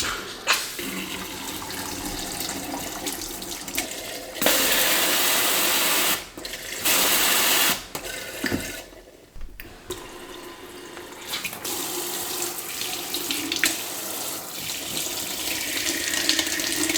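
Water runs from a newly installed kitchen sink faucet, a waterfall-style tap, in a steady close rush that shifts and briefly cuts off as the flow is adjusted, with no talking.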